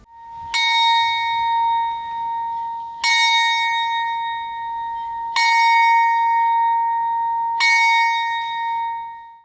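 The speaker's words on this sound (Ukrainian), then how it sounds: "пролунав традиційний дзвін пам'яті у згадку про загиблих героїв" A single clear memorial bell rings four times at slow, even intervals at a ceremony in Ivano-Frankivsk for fallen soldiers, each strike ringing out and fading before the next, with no talking.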